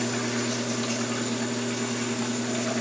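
Tap water running steadily for a hot rinse while shaving, an even hissing flow with a faint low hum, close and unbroken throughout.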